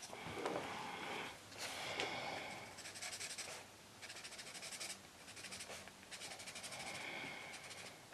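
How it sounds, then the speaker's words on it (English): Touch skin tone alcohol marker stroking across paper, a close, soft scratchy rubbing in repeated bursts with brief pauses between strokes. "I'll probably just use the lighter colour over the top of the darker colour,"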